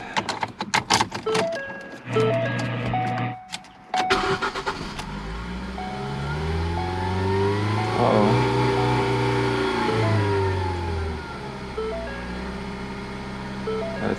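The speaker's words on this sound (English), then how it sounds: "It's revving high." A Ford Focus engine with newly replaced internals and reset timing cranks, catches and runs, its revs climbing to a loud, high sustained rise and settling into a fast idle, with brief speech and clicks at the start.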